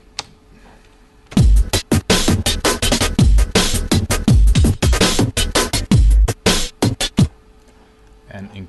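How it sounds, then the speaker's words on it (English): A drum and bass breakbeat, loud, punchy and dry, with dense rapid hits and deep kick thumps, cutting in abruptly after a near-silent start and stopping sharply before the end. "I also added a breakbeat"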